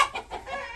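A chicken gives a few quick, soft clucks in succession, close by.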